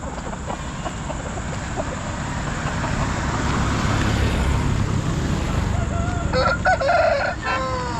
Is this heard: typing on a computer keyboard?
no